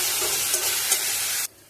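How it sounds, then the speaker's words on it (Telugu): Vegetable fried rice mix with tomato sauce and chilli sauce is stirred in a hot pan, making a loud continuous frying hiss with a couple of soft scrapes, then cutting off abruptly. "ఇవన్నీ వేసుకొని బాగా కలుపుకోవాలి"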